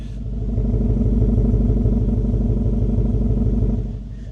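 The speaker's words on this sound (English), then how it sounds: "I have it in like its loudest exhaust just sitting here." A 2025 Ford Mustang GT's loud, deep exhaust idles close by in its loudest exhaust mode, a steady throbbing rumble with a rapid pulsing beat that holds for a few seconds before easing off.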